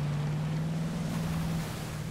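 A Lamborghini Urus driving off-road through river water in Forza Horizon 5, a steady engine drone under a broad rushing splash of water, fairly loud and continuous, easing slightly toward the end, with no talk.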